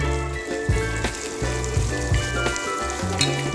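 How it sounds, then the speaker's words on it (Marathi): Garlic, fennel seeds and cloves dry roasting in a pan for a Goan fish masala, giving a continuous close sizzle and crackle with faint stirring and some water-like hiss, with no voices. "आता हो सगळो मसालो आता भाजून घेऊया"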